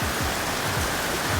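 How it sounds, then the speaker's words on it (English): Sudden heavy rain pours down outdoors in Thailand with no wind, a dense, steady wash of close, loud downpour without any voices. "Just started raining hard as hell out of nowhere."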